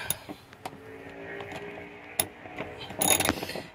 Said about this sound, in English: You're going to use your 14 mil socket and ratchet.